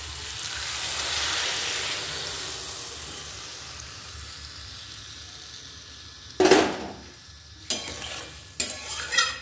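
Potatoes and pointed gourd fry with a steady hissing sizzle that fades, then water hits the hot pan in bursts of loud crackling spatter as it is stirred.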